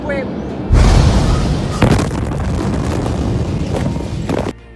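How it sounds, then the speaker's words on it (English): A massive explosion tearing through Beirut, the Lebanese capital, erupts as a sudden loud blast. A sustained roaring rumble follows, with a second sharp jolt shortly after, and continues until the sound cuts off abruptly. "an explosion tore through the Lebanese capital"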